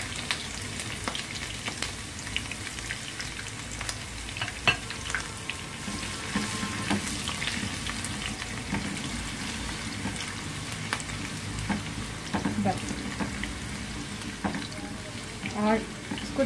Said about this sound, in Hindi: इसको बिल्कुल हल्का सा फ्राई करेंगे। साथ में हम ये स्लाइस की हुई अदरक शामिल करेंगे